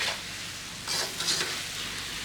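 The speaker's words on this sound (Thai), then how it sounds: "ใส่เสร็จแล้วก็ผัดคลุก" Liver stir-fried with onion, spring onion and curry powder in a pan, a close, steady sizzle with bursts of brighter crackling as the food is tossed and stirred.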